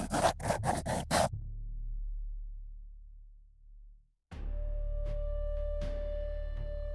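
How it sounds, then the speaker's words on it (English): A deck of rune cards, a Shadow and Light deck with double the usual number of runes, is shuffled in a few quick riffling bursts near the start, then a low hum and faint scattered ticks follow. "we'll want to give 5 shuffles to fully randomize the deck"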